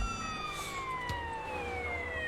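A police car siren wails in GTA San Andreas, a clear rising and falling electronic tone sweeping steadily over a low engine rumble, fairly close and prominent.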